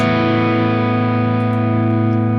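Crunchy distorted electric guitar, played through a JCM 800-type amp model on a Sonicake Matribox 2 Pro, sustaining loud and steady chords with a slight roomy reverb throughout.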